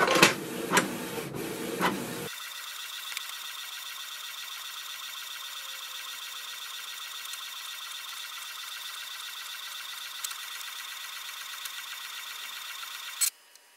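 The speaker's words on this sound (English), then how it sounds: "Now wait for the printer." Canon Pixma TS3400 inkjet printer feeding an A4 sheet and printing a print head alignment pattern, a steady mechanical whir with faint periodic clicks of the carriage running for about eleven seconds after a few louder thumps of paper pickup.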